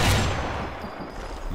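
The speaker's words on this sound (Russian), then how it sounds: "Один был прицельный выстрел, два навскидку, и все мимо." Gunfire in the Sniper Elite 4 video game at a port: a loud, dense burst of shots that decays into rumbling echoes and lingering noise, with no talking.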